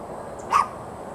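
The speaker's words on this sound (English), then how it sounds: "She just barks at nothing. She barks at air." A single short dog bark, moderately loud and close, rising briefly out of quiet room tone.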